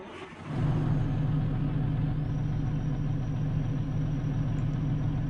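A custom Peterbilt truck's 12-cylinder diesel in American Truck Simulator cranks and lights off, jumping to a loud steady rumble while a thin high turbo whine rises and holds over the idle.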